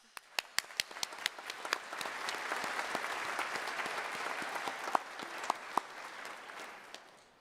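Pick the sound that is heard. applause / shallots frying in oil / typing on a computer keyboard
applause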